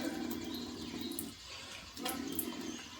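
Water poured from a small height into a brass pot coated with salt for scrubbing, a steady trickling splash that pauses briefly midway and then resumes, close up with no voices.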